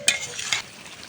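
Potatoes being washed in water for a home-cooked meat dish: a brief close splash and watery rustle that fades quickly, with no one talking.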